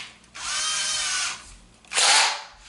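A power drill bores a pilot hole into wooden Adirondack high chair parts with a longer bit, running in two bursts, a sustained whine of about a second then a shorter renewed burst, close and loud.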